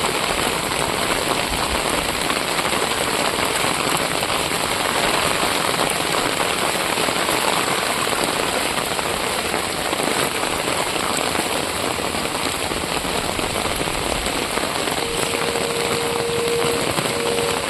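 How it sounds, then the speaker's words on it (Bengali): Heavy, unbroken rain pours down in Chittaranjan after some fifteen hours of downpour with the street flooded, a dense steady hiss filling the whole stretch, close and loud, with no talk. "কালকে সন্ধ্যা থেকে বৃষ্টি আরম্ভ হচ্ছে কমসে কম এখন পনেরো ঘন্টা হয়ে গেছে বৃষ্টি"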